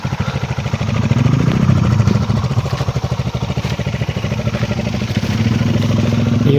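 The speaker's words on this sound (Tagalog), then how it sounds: "Yung may motor dumating no" A motorcycle engine runs close by, a steady low rumble with rhythmic pulsing that swells slightly as it draws near, loud throughout.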